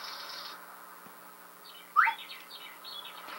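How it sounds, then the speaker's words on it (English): Birds chirp in the outdoor ambience of a farming game, with a soft wind hiss underneath and one brighter call standing out near the middle, followed by faint scattered chirps. "we do hear the wind and the birds chirping"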